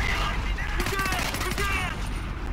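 Rapid automatic gunfire from the video game Homefront The Revolution, a dense fusillade of overlapping shots and bursts mixed with shouting voices throughout.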